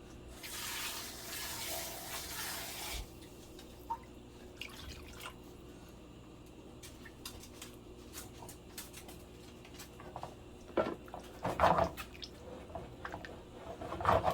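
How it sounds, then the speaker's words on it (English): Water pours steadily into a pan of pork chops in tomato paste sauce for a few seconds, followed by quieter kitchen clinks and handling noises. "We're going to add more water."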